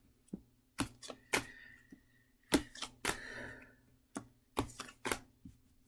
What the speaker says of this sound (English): I'm basically shuffling the cards